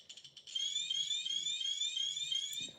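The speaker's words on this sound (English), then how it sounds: "And there's the infamous RadiaCode alarm." A RadiaCode 110 Geiger counter gives a few quick electronic beeps, then sounds a sustained, shrill, warbling tone at close range that cuts off at the end.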